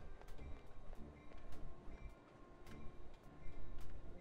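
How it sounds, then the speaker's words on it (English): A long train rolls past in Irony Curtain with a steady rumble, repeated rhythmic clacks of wheels on rail joints, and faint squealing, heard fairly quietly with no talk. "That was a long train."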